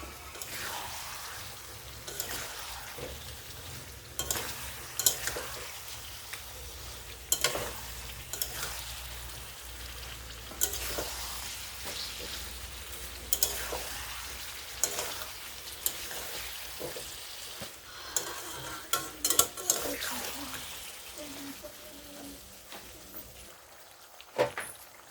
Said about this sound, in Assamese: আৰু মছলাখিনি এড কৰাৰ পিছত মই মাংসখিনি অলপ লাৰি দিছোঁ।